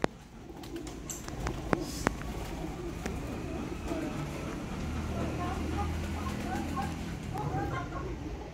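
Sialkoti pigeons coo in low, repeated calls from a loft while someone talks over them, with faint traffic and a few sharp clicks in the background.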